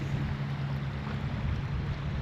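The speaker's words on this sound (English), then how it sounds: "It's a bit windy." Steady wind blowing at an ocean beach by a boardwalk, a broad continuous rush with low rumbling buffeting against the microphone, loud and unbroken throughout.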